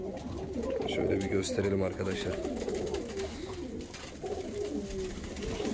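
Volski pigeons coo steadily in a coop, a low rolling chorus of several birds close by, with someone talking over them throughout.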